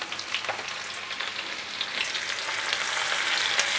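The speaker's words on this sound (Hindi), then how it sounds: "प्याज और लहसुन का कलर चेंज हो जाने तक हमें फ्राई करना है।" Chopped onion and grated garlic frying in a pan, a continuous bright sizzle that grows slightly louder, with faint stirring and no talking.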